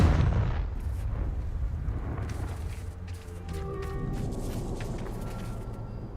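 A Confringo fire spell from Hogwarts Legacy goes off with a sharp, loud blast up front, then trails into a rolling, rumbling roar that slowly fades.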